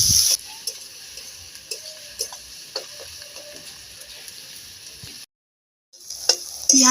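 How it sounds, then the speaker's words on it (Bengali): Chopped onions frying in a pan for a duck curry, a steady soft sizzle with occasional light stirring taps, broken by a brief silent gap near the end before louder clatter returns. "এবার আমি পেঁয়াজটা লাল লাল করে ভেজে নেব।"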